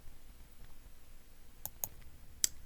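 A few sharp computer mouse clicks land near the end of a quiet stretch, three distinct close taps over faint room hiss.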